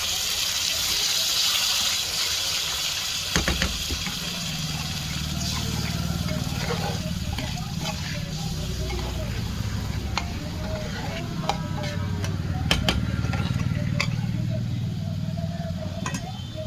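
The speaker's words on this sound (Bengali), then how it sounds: "এবার আমি একটি অ্যারারুট গোলা জল বানিয়ে রেখেছি, সেগুলো আমি এর মধ্যে দিয়ে দিলাম।" Arrowroot-thickened water poured into a simmering paneer curry in a pan, with a steady watery gush and bubbling sizzle beneath intermittent spoon scrapes and stirring clicks, close and moderately loud.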